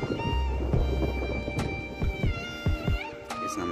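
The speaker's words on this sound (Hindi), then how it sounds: "यहाँ छत में तो भयंकर तेज हवा चल रही है" Strong wind sweeps across a rooftop in hilly country the day after heavy rain, a low roaring buffet that holds steady with sharper gusts and rattles throughout, with no voices.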